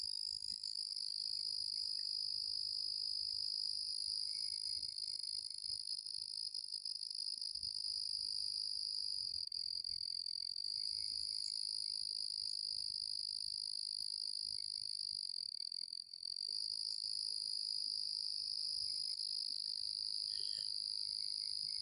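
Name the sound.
crickets chirping in woods at night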